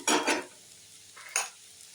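Ginger and nigella seeds in hot oil, with two quick scraping stir strokes in the pan, a short pause, then one more scrape, all close and fairly quiet.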